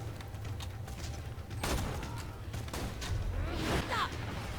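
Gunfire from the player's gun in the shooter game Borderlands 2: several distinct shots at irregular intervals over a steady background hum, with some faint chirping in the mix.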